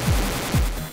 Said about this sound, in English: Boy, those low-res explosions.